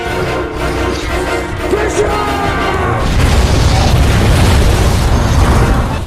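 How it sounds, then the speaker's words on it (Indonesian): A ship blows up in a film scene, starting as a rumbling mechanical build-up under music and swelling into a loud, sustained roaring explosion with a dense low boom. "Dan akhirnya kapal pun meledak."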